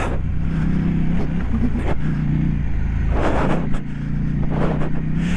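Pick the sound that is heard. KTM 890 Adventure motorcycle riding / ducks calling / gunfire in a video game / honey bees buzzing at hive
KTM 890 Adventure motorcycle riding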